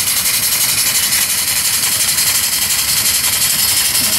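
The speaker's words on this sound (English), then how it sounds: "The water pump working." A water pump runs on a live steam logging locomotive, feeding water to a fire hose, with a loud, steady, rhythmic chugging pulse, close up and continuous.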